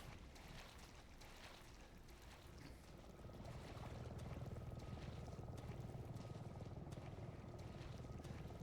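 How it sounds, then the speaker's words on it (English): Helicopter in Resident Evil 7, a steady rotor and engine drone that swells louder partway through and holds, with a faint thin whine on top. "Why, that's a helicopter."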